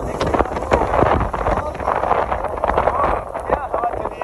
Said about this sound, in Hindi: क्या हवा चली है यार